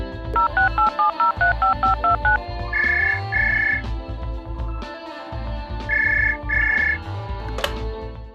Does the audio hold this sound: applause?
no